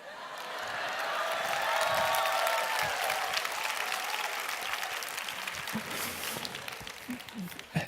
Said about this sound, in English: Notice how all the women are laughing and clapping.